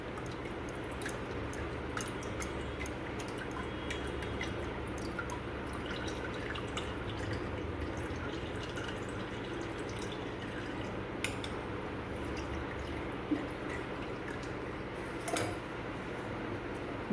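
Water drains from washed chhana (fresh paneer curds), giving faint, scattered drips over a quiet, steady background hiss in a home kitchen.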